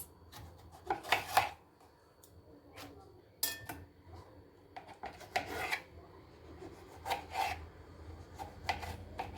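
A knife slicing tomatoes and other vegetables for a diet salad, producing soft rasping cuts in irregular bursts, fairly close, with quiet pauses between strokes.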